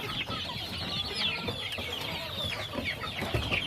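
Chickens cluck on a farm in Bohol, a busy mix of close and farther calls overlapping without a break, with no talking.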